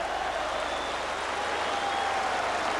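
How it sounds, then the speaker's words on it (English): Sustained applause from the Kop end of a packed Liverpool stadium at a 1988-89 match against Tottenham, a steady dense roar of clapping and crowd noise with no pauses. "his ears ringing to the applause from the Kop"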